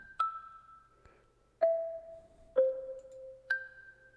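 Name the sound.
counter melody in a beat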